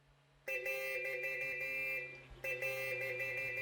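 Blue Nissan truck horn in Euro Truck Simulator 2, a bright multi-tone honk sounding for about a second and a half, pausing briefly, then blaring again over a low engine hum.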